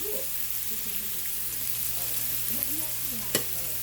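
Ramen noodles going into a hot pan with shrimp and vegetables, a steady close sizzle of frying with faint stirring and a sharp clack near the end, while a person talks over it.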